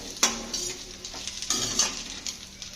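A spoon scrapes and stirs through a sizzling mixture for tomato chutney in a pan, with a few sharp clinks against the metal over a steady frying hiss.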